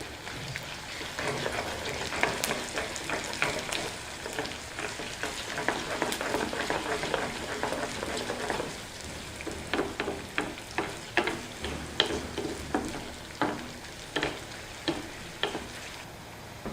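Mustard seeds, dried red chillies and curry leaves sizzle and crackle steadily in hot oil for a dal tempering, with a run of sharp, evenly spaced pops and clicks toward the end.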